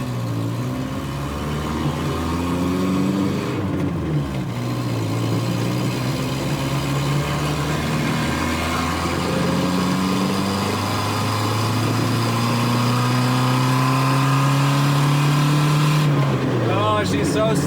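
Volvo 240 engine running at low idle, a steady close mechanical hum whose pitch drifts up and down slightly over a long continuous stretch.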